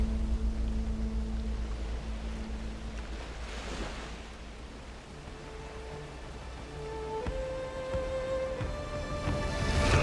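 A sailing boat moves across open water in a survival video game, with a steady wash of waves and surf alongside sustained musical tones that rise in pitch toward the end.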